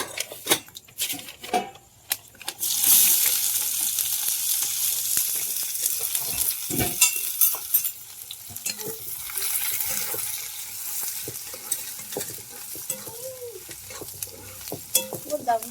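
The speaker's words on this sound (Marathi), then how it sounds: "तापले गेले मोहरी शेंगदाणे थोडेसे टाकते" Mustard seeds and peanuts hit hot oil in a blackened kadhai on a wood-fired stove, a sudden loud sizzle that settles into a steady crackling fry with scattered pops.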